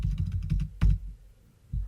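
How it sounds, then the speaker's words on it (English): Quick, close keystrokes patter on a computer keyboard in a short burst, followed by a heavier key press and a pause, then one more tap. "I'm bad at typing"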